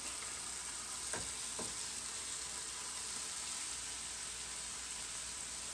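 Garlic and mushrooms sizzle in a pan for keto cream of mushroom soup, a steady close frying hiss with a couple of brief stirring scrapes early on and no talking.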